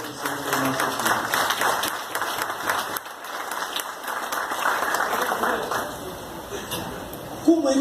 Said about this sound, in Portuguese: as mães merecem uma calorosa salva de palmas